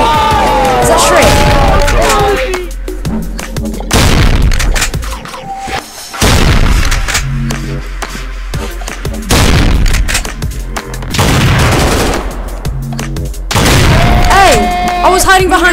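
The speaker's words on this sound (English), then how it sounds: "Who the hell is shooting me?" Video game gunfire comes in loud bursts of booming shots and thuds aimed at the player, repeating every few seconds over music-like tones, with a voice talking between volleys.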